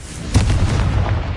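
A Confringo fire-blast spell going off in a wizard video game, a single loud booming explosion with a deep rumbling tail that fades over about a second.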